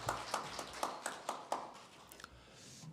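A church congregation claps in a quiet sanctuary during a Korean Methodist Sunday worship service, about eight soft, evenly spaced claps that thin out into scattered taps.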